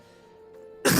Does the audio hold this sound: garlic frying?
no